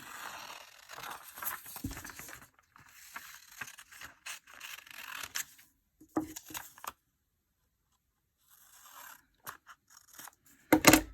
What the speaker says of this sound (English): So first job to do is cut the image out.